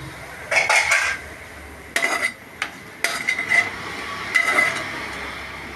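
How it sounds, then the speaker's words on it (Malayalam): A dal pot being rinsed out over a beetroot curry, metal clanking and scraping in several short, loud bursts close by with brief pauses between, and no talking. "ഞാൻ ഈ പരിപ്പിൻ്റെ പാത്രം ഒന്ന് കഴുകി ഇതിനകത്തോട്ട് ഒഴിക്കണേന്."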